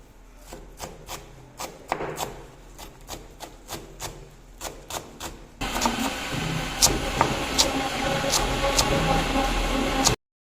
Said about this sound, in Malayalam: നമുക്കിതിനെ ചെറുതായിട്ടൊന്ന് അരിഞ്ഞരിഞ്ഞെടുക്കാം